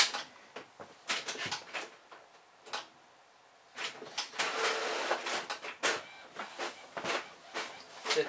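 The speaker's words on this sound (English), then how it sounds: "It's doing a little printing right now." An Epson Artisan inkjet printer prints a test page nearby with irregular mechanical clunks, whirs and sliding movements, bursts separated by short pauses.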